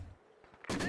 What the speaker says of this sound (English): Sniper getting some nice shots and 12 kills already.